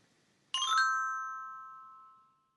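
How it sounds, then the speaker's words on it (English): Church tower bells in a village ring with one clear struck chime whose bright metallic tone rings on and slowly fades away into silence. "Can you count the bells in the tower?"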